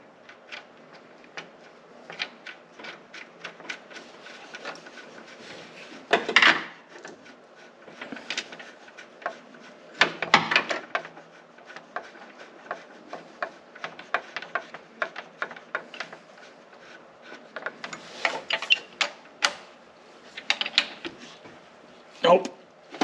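A ratchet works the crankshaft bolt of a hydrolocked 4.0 engine whose crank is stuck and won't make a full turn, giving irregular clicks and clunks close by, with louder bursts of effort scattered through.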